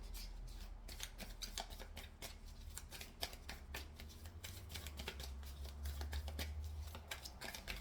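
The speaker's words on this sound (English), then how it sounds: "Give me some cards for Prince Harry." Tarot cards being shuffled by hand, a continuous rapid riffling and flicking close up, alone without talk over a low background hum.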